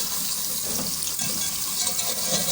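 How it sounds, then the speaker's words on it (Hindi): Half a cup of cooking oil pouring into a pot, a steady, close liquid rush with constant hiss filling the whole stretch, no voices. "1/2 कप कुकिंग ऑयल लेंगे और इसको हम एक पतीली में डाल देते हैं।"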